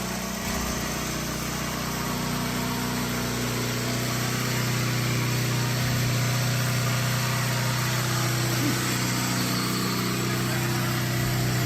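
A car engine idles steadily nearby, a loud continuous low rumble with a constant hum that barely changes throughout.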